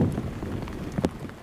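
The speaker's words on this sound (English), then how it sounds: "The sound of raindrops and the click of the guard's heels, the only sound at the tomb of the unknown soldier." Rain falls on the headstones at Arlington cemetery as a steady patter of raindrops, with a single sharper knock near the end, up close and with no voices.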